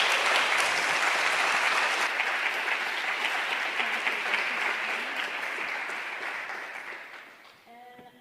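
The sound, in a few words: audience applause for panelists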